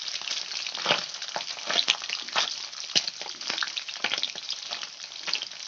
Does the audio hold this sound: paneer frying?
yes